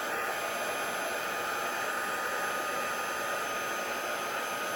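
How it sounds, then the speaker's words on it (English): A heat gun blasting to dry ink on a handmade card, one continuous loud, even whooshing roar with no breaks, no voices. "Just using my heat gun,"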